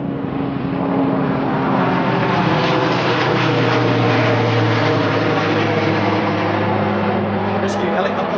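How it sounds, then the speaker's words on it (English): A rescue helicopter flies out of the mountains overhead, producing a loud, steady engine and rotor drone that fills the whole stretch, with a voice speaking over it. "Rescue helicopter flying out of the mountain."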